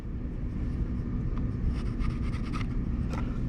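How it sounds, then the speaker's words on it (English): A pencil drawn across wood along a speed square while laying out a mortise, giving soft scratchy strokes over a steady low rumble of background noise. "And I can come this way and draw my line across."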